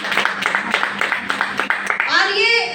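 An audience claps along in repeated bursts at a Vestige marketing-plan event, the applause steady and moderately loud, rising toward the end with cheering voices.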